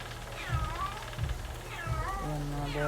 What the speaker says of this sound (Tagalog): Ay, pusa na yun.